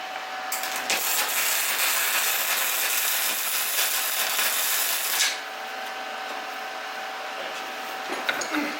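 A wire-feed welder working on truck steering components, giving a steady loud crackling hiss that runs for about five seconds before easing into a quieter sustained buzz.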